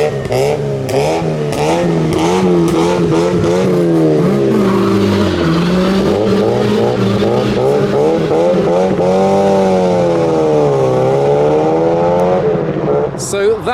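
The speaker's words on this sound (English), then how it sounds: "So that is it for most of the cars leaving." Cars pulling away from a car show in May 2019 rev hard and accelerate past one after another, engine notes climbing and falling loudly and close, with tyres briefly squealing and people talking underneath.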